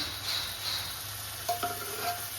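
Mustard greens for sarson da saag go into hot frying masala, giving a constant close sizzle with a few light stirring knocks and clinks, and no voices.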